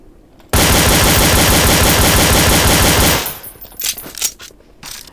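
Loud, close automatic gunfire in Counter-Strike: Source, a rapid unbroken burst lasting about three seconds, followed by a few scattered clicks and metallic clinks as it stops.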